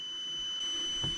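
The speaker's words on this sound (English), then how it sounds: "Why is it still beeping?" QUCC battery BMS alarm giving a steady high electronic beep tone that holds without pause at moderate level, with faint handling noise beneath.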